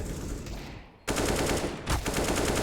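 Glock pistol shots in a professional CS:GO match on Vertigo, a sharp burst of rapid fire following a quieter stretch, then another crack, dense and close with no audible talk.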